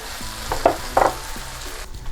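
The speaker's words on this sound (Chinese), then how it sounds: "黄油融化了之后，咱们加洋葱，炒到洋葱稍微有一些变软的时候，把炒好的番茄酱放进去。" Onion, tomato sauce and minced meat stir-fried in melted butter in a pan for homemade pizza sauce, a steady soft sizzle with a few louder scraping stirs of the spatula.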